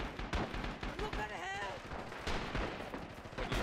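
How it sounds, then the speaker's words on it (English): Gunfire cracks from several directions in Rising Storm, a WWII shooter, on the urban Hanto map. Sharp, close reports come in quick bursts and stay fairly loud throughout. A voice speaks amid the shots. "I'm just getting shot at from everywhere"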